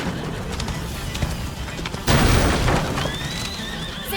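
A horse whinnies loudly over a dense, rumbling soundscape with booms and clatter in the video game A Plague Tale: Innocence, no talking.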